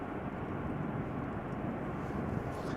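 An airplane at Amsterdam Schiphol Airport produces a steady, broad engine roar that stays continuous and fairly distant throughout, with no voices over it.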